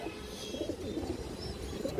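Pigeons in a loft give soft, low, rolling coos, a few overlapping calls close by at a quiet level with faint background noise.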